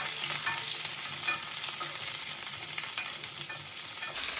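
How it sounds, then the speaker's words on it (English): Wet, freshly washed green chilies sauté in a hot pan, giving a steady, close, loud sizzle with light stirring scrapes throughout and no talking. "So now I'm going to start sauteing the chilies."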